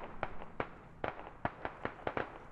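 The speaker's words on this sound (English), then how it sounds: "Phoenix took a shot at Silent there." Gunfire in the military shooter game Squad: a string of sharp, cracking reports at uneven intervals, some close and punchy, others softer, with no talk.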